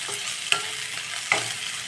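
Onions and a few curry leaves sizzle in ghee and oil in a pan, a steady hiss broken by two sharp stirring clinks.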